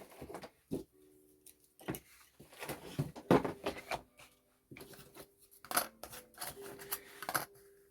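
Scissors snip through paper card to cut out a template for a decorated Christmas notebook, giving a series of short, close, crisp cuts with brief pauses between them.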